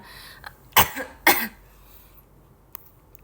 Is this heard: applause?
no